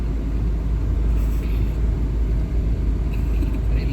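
Steady low engine and road rumble from inside a moving car, constant and unbroken, with faint background sounds.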